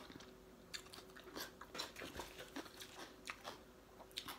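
Someone eating papaya salad with rice noodles, soft close crunching and chewing bites repeated irregularly, quiet with no talk.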